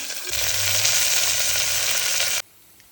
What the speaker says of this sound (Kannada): ಒಗ್ಗರಣೆ ಹಾಕ್ತಾ ಇದ್ದೀನಿ.